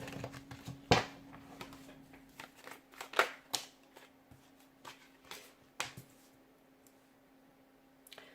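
Tarot cards are shuffled by hand in a quiet room, giving scattered papery flicks and riffles with a few sharper snaps, irregular and close, over a faint steady hum.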